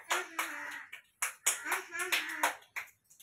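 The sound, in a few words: children clapping hands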